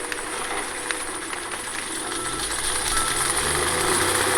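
A John Deere 748L2 skidder engine runs steadily, then swells louder toward the end as it revs up, a continuous rumbling drone with faint rattling and no talk over it.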